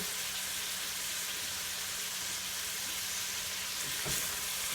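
Onions, carrots and celery fry over medium-high heat in a pot for vegetable soup, giving a steady, even hissing sizzle throughout with a faint stir or scrape near the end.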